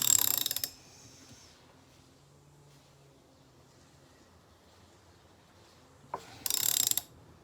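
Ratchet tightening the flywheel nut on a Stihl MS200T chainsaw during a rebuild, two loud bursts of rapid clicking at the start and end separated by near silence, close by with no talk.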